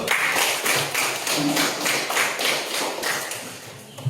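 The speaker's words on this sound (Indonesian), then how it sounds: "Aplaus dulu" A small audience gives a short round of applause, a dense wash of overlapping hand claps at moderate loudness, steady throughout and then tapering slightly.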